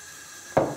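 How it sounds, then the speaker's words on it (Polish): Chopped plums tipped into a small saucepan land with a single soft, close thud after a quiet moment. "Do rondelka wrzucamy śliwki."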